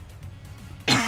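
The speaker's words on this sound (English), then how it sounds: "Oh, I'm gonna cough." A single short cough bursts out near the end after a quiet stretch, close and fairly loud.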